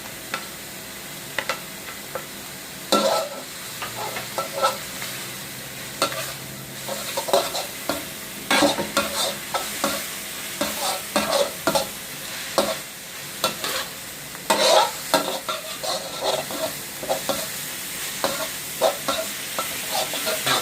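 Wild boar pieces stir-fried with sliced chilies in a hot pan sizzle under a steady bed of frying, broken by repeated sharp scraping and tossing strokes of a spatula at an irregular rhythm.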